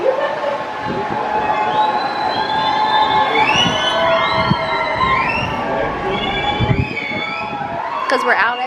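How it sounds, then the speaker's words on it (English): A crowd on the Disney Dream cruise ship cheers and shouts as the ship sails away, loud overlapping whoops and voices, children among them, with nearby talk throughout. "The people just cheering because we're leaving."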